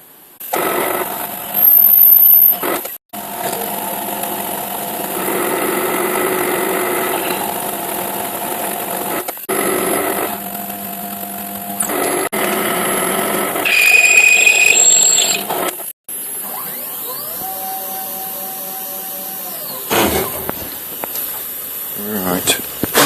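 Plastic injection mould blocks being machined, with square pockets cut out: a loud, sustained machine drone whose tones shift and cut out briefly several times.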